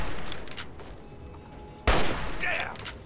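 Video game gunfire from Fallout 3 during an assault on Paradise Falls: a sudden loud burst of shots cuts in midway, preceded by quieter game ambience and faint sound effects.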